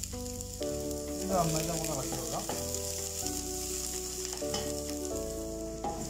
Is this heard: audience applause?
no